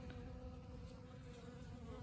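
Honeybees buzz steadily around squash flowers in a garden, a faint continuous hum of many wings with no voices present.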